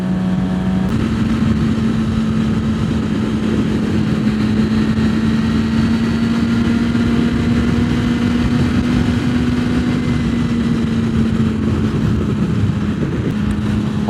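A Suzuki GSX-R 600 motorcycle engine running under test, a loud, close, steady hum that holds a constant pitch with slight rises and falls over about fourteen seconds, with no talking.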